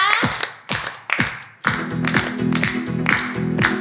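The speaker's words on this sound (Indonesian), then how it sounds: "Semuanya tepuk tangan dulu ya." Hands clap in a sharp, separate rhythm during a children's online church service, each crisp clap standing alone, with a steady musical accompaniment joining halfway through.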